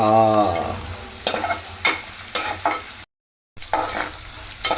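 Salted tiger prawns fry with ridge gourd in a pan, giving a steady close sizzle with stirring scrapes, broken by a brief silent gap before the sizzling resumes.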